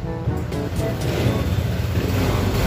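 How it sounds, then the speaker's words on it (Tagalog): A Honda Click 150FI scooter that won't hold an idle runs close by with a rough, steady engine drone and a slight revving swell. No voices. "kahit pa bigayin natin yung throttle, tapos bitawan, ayan, namamatay siya"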